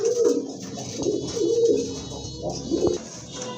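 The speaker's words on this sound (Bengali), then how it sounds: "আর এখানে কিন্তু আরেক জোড়া কবুতর আছে" Pigeons coo in repeated low, throaty phrases, close and fairly loud, several rolling calls in a row.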